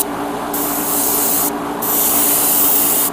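Airbrush or spray can hissing paint onto a Gundam model kit part in close, steady bursts, with a brief pause between two sprays.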